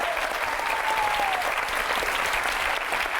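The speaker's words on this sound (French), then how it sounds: "On peut applaudir fort fort Guillaume avec son papa Raymond" A studio audience at a Father's Day TV show claps loudly in dense, even applause that holds steady throughout, with a faint whistle early on and no clear speech.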